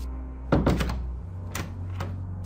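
A door is pushed shut with a solid wooden thunk, followed by a couple of softer knocks and a latch-like tap, close by against a low steady background hum.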